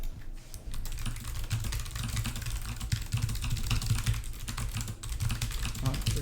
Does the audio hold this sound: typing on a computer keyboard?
yes